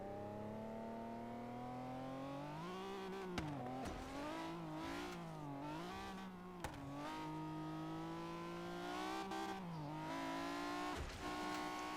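Modded dragster motorbike engine in Forza Horizon 3 whines and surges in repeated rising and falling revs, with a sustained buzzy drone broken by short sharp clicks.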